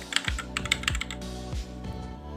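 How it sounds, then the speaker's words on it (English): Close, crisp keystrokes clatter on a Fantech Maxpower MK853 keyboard in quick irregular bursts, with a few heavier thumps as keys bottom out. "The keyboard sound."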